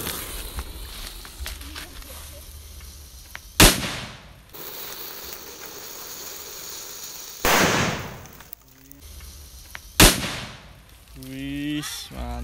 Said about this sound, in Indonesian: Mercon kera raja kita nyalakan dalam tanah.